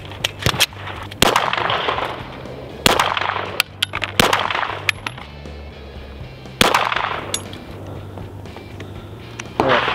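Pistol shots fired at a low target on a range, the pistol fitted in a conversion kit: sharp loud cracks in short bursts and single reports spread across the stretch, with a steady low hum underneath.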